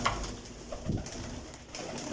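Quality pigeons cooing nearby, soft low throaty coos repeating a few times over a short stretch, with faint background rustle.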